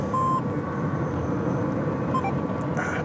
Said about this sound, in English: The beep is I sent a beacon, and the beep-boop is that my beacon was retransmitted